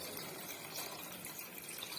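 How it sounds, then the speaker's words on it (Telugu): Water pours steadily into a pot of mushroom biryani rice, a continuous close splashing and trickling rush with no pauses and no voices. "అందుకని 4 గ్లాసులు నీళ్లు పోస్తున్నాను."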